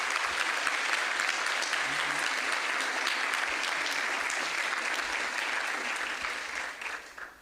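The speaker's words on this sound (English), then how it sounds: "So give those students a round of applause." Sustained audience applause for about 300 students taking part in LAS at Juniata, a steady dense wash of many hands clapping that fades out near the end.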